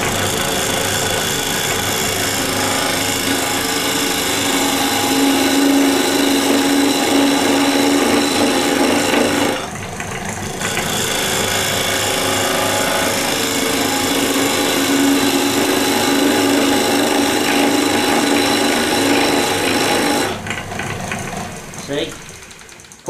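A woodturning tool cuts into a spinning workpiece on a lathe, peeling shavings off in a loud, continuous rasping hiss, broken by two brief pauses where the cut stops before resuming.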